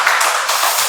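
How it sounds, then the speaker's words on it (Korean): A congregation applauds in a hall to welcome a speaker, a dense, steady wash of clapping from many hands, loud and close throughout with no voices over it. "여러분 큰 박수로 부탁드리겠습니다"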